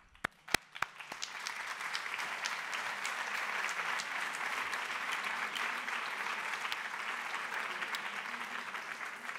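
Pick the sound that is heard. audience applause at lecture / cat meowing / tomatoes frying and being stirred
audience applause at lecture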